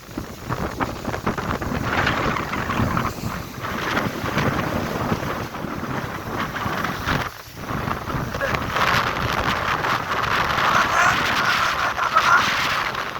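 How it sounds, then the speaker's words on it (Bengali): A strong windstorm with no rain tears through tree leaves, roaring and buffeting the microphone in loud continuous gusts, with a brief lull partway through. "এখানে খুবই উল্টে যাচ্ছে খালি বাতাসে।"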